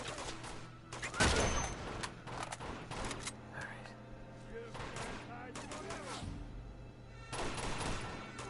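Gunfire in the video game Uncharted 2: Among Thieves, with repeated bursts of shots and a louder volley early on, over steady game background noise.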